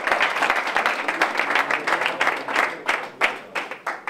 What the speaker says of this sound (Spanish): Un aplauso para nuestro amigo.